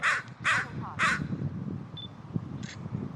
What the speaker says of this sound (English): That crow is still crowing its disapproval on me.